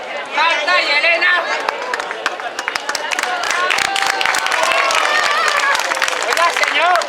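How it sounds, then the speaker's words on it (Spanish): Applause and chatter from a crowd watching a clown show for children on a beach, with scattered clapping and lively voices talking throughout at moderate distance. "un fuerte aplauso para Héctor, Marta y Elena"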